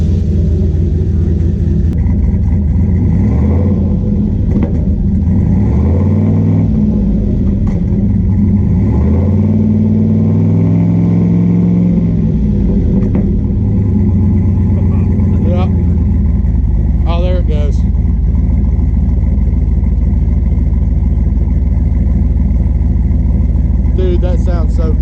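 Turbocharged Chevrolet C10 pickup engine settling into a steady, loud idle with a constant low rumble and a faint turbo whine, while people talk over it close by.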